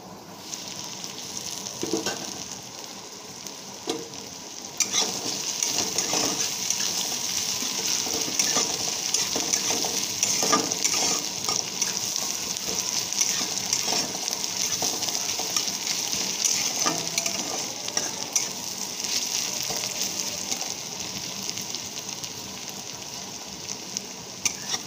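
Onions sizzle steadily in a hot pan for the whole stretch, with scraping stirs breaking through the frying hiss at irregular moments; no one speaks.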